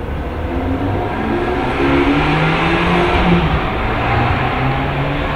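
A car engine drives laps on the Montlhéry speed ring, a steady low hum with road and wind noise, constant and fairly loud with slight rising swells, no voices.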